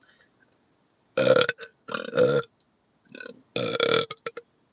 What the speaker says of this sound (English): why you burp so much?